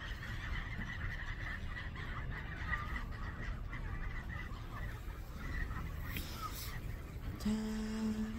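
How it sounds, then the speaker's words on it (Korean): A lone swan honks faintly from a quiet seashore at Sapgyocheon in Dangjin, its calls repeated over a steady windy, surf-like background. "외로운 고니"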